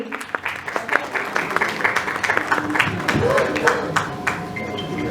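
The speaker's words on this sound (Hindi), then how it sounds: "जोरदार तालियां" Audience applause fills a hall during an awards ceremony, Bollywood Iconic Award 2025, with steady clapping throughout and a voice speaking over it.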